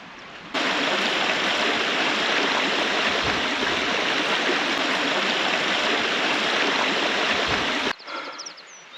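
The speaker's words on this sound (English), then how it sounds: "it was quite tricky getting over that stream" A mountain stream in the Howgills rushes and splashes in a dense, steady roar that fills the scene, then cuts off abruptly near the end.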